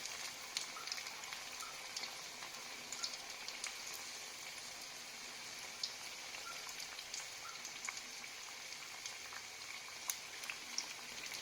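Onion bondas bubbling in hot oil, a steady soft crackle with scattered sharp pops, quiet and even throughout.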